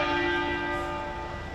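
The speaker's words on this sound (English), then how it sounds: "Bells are being tolled across Britain" A church bell tolls across Britain, one sustained ringing strike with a long humming decay, clear and fairly loud, with no voices over it.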